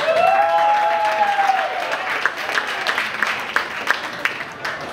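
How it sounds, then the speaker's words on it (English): Applause at a rehearsal dinner: a room of guests clapping steadily for a few seconds, fading slightly toward the end, with a few voices mixed in. "Please give a round of applause."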